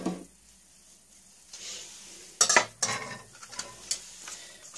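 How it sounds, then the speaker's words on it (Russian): Pancake batter made with mayonnaise and vegetable oil, stirred and whisked by hand with a whisk in a bowl, giving scattered scraping, clinking strokes of uneven rhythm, close and moderately loud. "Сейчас я тоже немножечко это взобью."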